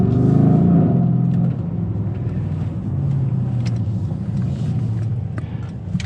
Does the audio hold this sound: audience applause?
no